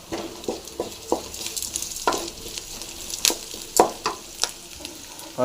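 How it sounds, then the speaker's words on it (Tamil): Chayote (chow chow) vegetables sizzle and crackle in a hot pan with curry leaves, with repeated stirring scrapes and clicks of a utensil against the pan throughout. "நல்லா ஃப்ரை ஆகட்டும்"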